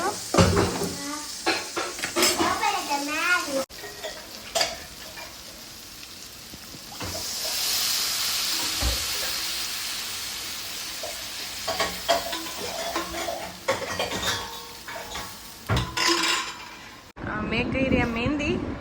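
Leftover flatbread sizzles and is stirred with buttermilk in a hot pan, with spoon scrapes and clinks against metal, while people talk nearby.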